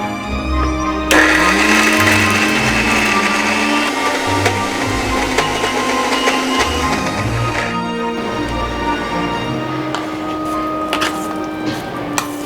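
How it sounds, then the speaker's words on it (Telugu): Mixer grinder blending ridge gourd chutney into a fine paste, a loud, close motor whir running steadily with a brief pause near the middle before the grinding resumes. "ఇలా మధ్య మధ్యలో కలుపుతూ మిక్సీ పట్టుకోవాలి."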